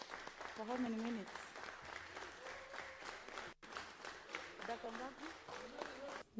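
Kenyan members of parliament clap in their chamber for frontline essential workers during COVID-19, continuous mid-level applause with a voice talking over the top of it.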